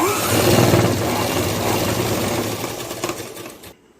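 Sewing machine stitching the hem of a Punjabi dress top, a loud, steady close-up whir that runs continuously for several seconds before stopping abruptly near the end, with no talking.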